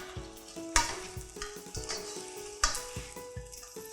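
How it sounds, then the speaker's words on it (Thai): Crispy fried catfish is tossed in a wok with red chili, green peppercorns and torn kaffir lime leaves, giving a soft sizzle broken by repeated spatula clacks and scrapes at an irregular pace, close by and without speech. "คลุกเคล้าให้เข้ากันนะคะ"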